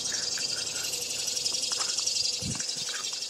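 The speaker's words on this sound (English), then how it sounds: "Those cicadas loud" A constant high-pitched insect buzz drones steadily in the background, with a few faint thumps and rustles nearby.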